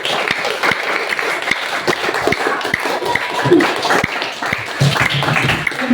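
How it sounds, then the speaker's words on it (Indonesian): Classroom applause from students and teacher, brisk crowded clapping with a few sharper individual claps and faint voices in the background, continuous throughout. "kita beri tepuk tangan untuk hari ini untuk semuanya"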